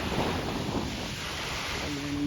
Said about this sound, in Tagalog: Malakas yung alon guys no.